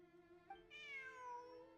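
A single cat meows in Genshin Impact with a drawn-out, rising then falling cry. It is fairly quiet and heard alone without talk.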